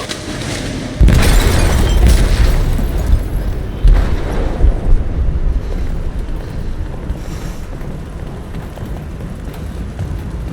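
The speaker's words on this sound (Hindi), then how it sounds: "They detonated an explosive in the hold. The ship is sinking, sir." An explosive detonates in a ship's hold in the game Detroit: Become Human. A sudden heavy boom is followed by a second thud and a long, rumbling, windy roar of water and wreckage.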